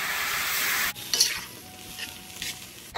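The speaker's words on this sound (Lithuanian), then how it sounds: "Kadangi kazane, tai šitą mūsų košę reikia pastoviai pamaišyti, nes temperatūros yra aukštesnė." Mashed potatoes get stirred in a hot kazan cauldron: a loud sizzling burst cuts off, followed by softer scrapes and knocks from the spoon against the pot.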